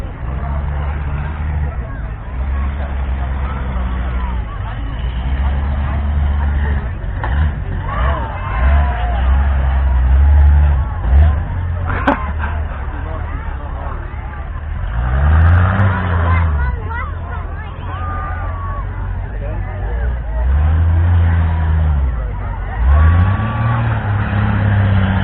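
Tough truck revving and bouncing over dirt humps at the Delaware County, Ohio fair, engine surging and falling in loud bursts with crowd babble around it.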